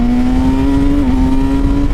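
A Honda Hornet 1000 SP motorcycle accelerates hard enough to lift its front wheel, a loud, steady engine drone close by that rises slightly in pitch with a brief dip near the middle.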